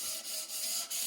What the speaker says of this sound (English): Just filled them with some pine filler, and I'm just sanding it off gently now